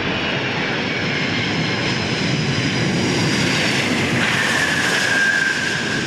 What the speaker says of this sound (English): giant of the sky descends on Perth's International Airport. 6 engines and wings spanning more than 88 metres.